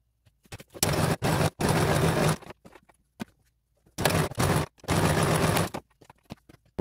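Sewing machine stitching two felt windows onto a felt fire truck busy book page, running in several short and longer bursts with brief pauses between, close and fairly loud with no talking.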